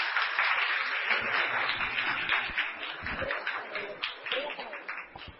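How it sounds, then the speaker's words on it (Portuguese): Audience applause at a lecture course session, a steady round of clapping that gradually thins and softens toward the end, heard through band-limited, muffled sound. "Uma batida de palmas para ele."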